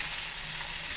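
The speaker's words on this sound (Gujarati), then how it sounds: "એક કઢાઈની અંદર 2 પાવડા તેલ લઈને તેની અંદર કાંદા અને ટામેટાં સાતરી લઈશું." Onions and tomatoes sauté in oil in a wok, giving a steady, close, broadband sizzle and crackle with no talking.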